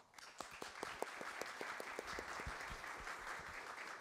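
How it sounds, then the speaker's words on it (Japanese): Applause at the close of a panel discussion on next-generation nuclear reactor development, starting with distinct individual claps and building into a continuous, moderately distant round of clapping. "拍手でお礼申し上げたいと思いますあのよろしくお願いします"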